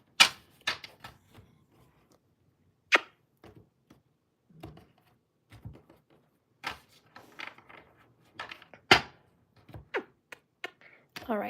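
Tarot cards being shuffled by hand close by, a quiet scatter of soft snaps and flicks arriving in irregular bursts, with a low voice murmuring now and then.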